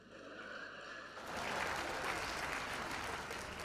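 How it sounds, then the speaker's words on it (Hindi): Applause from a seated audience at a Hindi poetry and talk event, starting softer under a faint tone, then swelling into fuller, louder clapping that holds steady to the end. "उस पर आपकी तालियां उठनी चाहिए"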